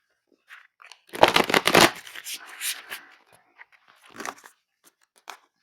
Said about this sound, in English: okay, going to shuffle it a couple more times here.